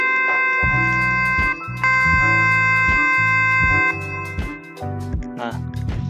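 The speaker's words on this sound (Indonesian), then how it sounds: "Ini suara digital karena dia dihasilkan dari suatu alat elektronik" Electronic melody from a phone, with bright synthetic tones in a steady rhythmic pattern of short repeated notes and chords, heard up close and clean without voices.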